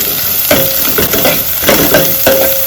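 Squid roast masala frying in a pan is loud and close, with a steady sizzle and a spatula scraping and stirring in a rough, regular rhythm about every half second.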